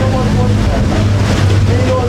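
A racing motorboat at full throttle roars in a steady, loud, droning rumble with wind noise throughout, heard at close range with no break.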